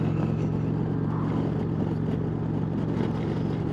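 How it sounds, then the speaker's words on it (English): An Indian Chieftain motorcycle with a 111 engine cruises along the road at around 2,500 revs in fourth gear, a steady low engine hum blended with wind rush, close and continuous. "This is a 111 engine."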